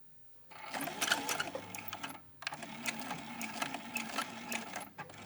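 A sewing machine runs through the seams of a small quilted tote bag made from scraps, its motor whirring in steady fast bursts with a brief pause between two long runs, close and clear.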